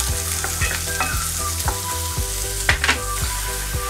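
Cumin seeds and ginger fry in a pan with a dense, close sizzle while a spoon stirs in regular strokes, with a couple of sharper crackles.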